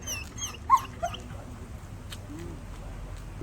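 A reactive rescue German Shepherd whimpers in a few short, high, nasal whines early on, then settles into quieter background noise with faint movement.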